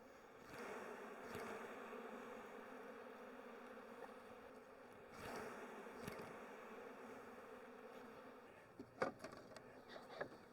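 Honeybees buzz steadily at close range as frames are shaken into a hive during a split, a dense droning hum with a few thuds and knocks of wooden frames and equipment.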